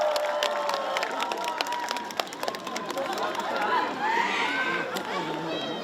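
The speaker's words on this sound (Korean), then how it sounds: "뜨거운 박수 주시기 바라겠습니다" Festival stage crowd at a tug-of-war festival in Dangjin, with steady applause mixed with cheering and chatter, and voices heard over the noise.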